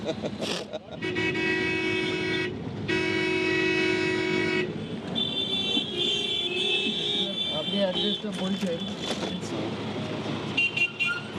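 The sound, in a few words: city street traffic with honking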